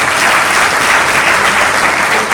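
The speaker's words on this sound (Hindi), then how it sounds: "इस तरह से एक बार इनके लिए ताली बजा दो।" An audience at a women's society gathering claps together in a brief, dense burst of applause, loud and steady throughout.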